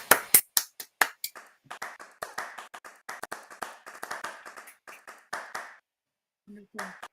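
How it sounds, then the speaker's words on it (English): A round of applause during an online presentation event: scattered, sparse claps and snaps from a few people, uneven and close, trailing off into a pause before a brief voice returns. "Well, a round of applause for Jaywook."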